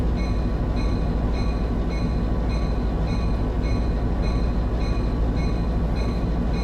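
A locomotive runs along the Caltrain corridor with a loud, constant rumble. A steady rhythmic clicking and a faint high whine from the wheels and rails sit on top of it.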